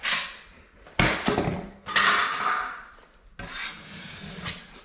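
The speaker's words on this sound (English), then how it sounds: "you could take a thicker knife, go right across," A thick putty knife dragging joint compound across a drywall patch in a few long, rough scraping strokes, each swelling and fading, close and fairly loud with no talking.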